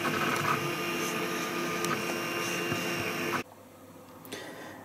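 An Ultimaker 3D printer prints a GoPro mount, giving a steady mechanical whir with tonal motor whine and shifting stepper tones, close and continuous, before cutting to near quiet with a faint bump afterward.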